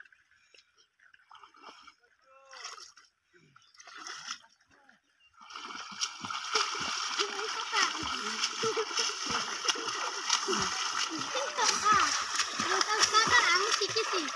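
Someone swims in a village river and churns the water into a steady, loud splashing that starts partway through and keeps going. A voice speaks over it now and then.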